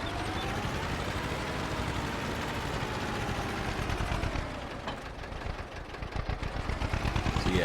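A tractor engine in the Farming Simulator video game runs steadily at mid revs. The drone is loud and continuous, with a rough, pulsing texture and no talk.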